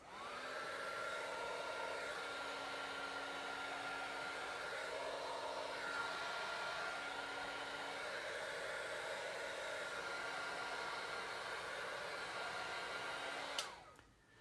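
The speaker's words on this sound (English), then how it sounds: "I'm going to get my heat tool and give it a quick blast" A heat tool blasts hot air over alcohol inks, a steady, close whooshing hum with a faint tonal whine that holds for about thirteen seconds, then stops with a click.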